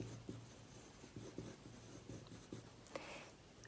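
A pencil or pen draws on paper to sketch a figure's head and hair: faint, close scratching and light taps in an uneven rhythm, quiet and without talking.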